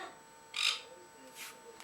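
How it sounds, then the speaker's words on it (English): Pet parrots give a few short, shrill calls indoors, one sharp squawk followed by two fainter ones, with someone talking quietly nearby. "So there's my parrots."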